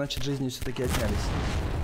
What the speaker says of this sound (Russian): Ого, вот это звук именно снаряда.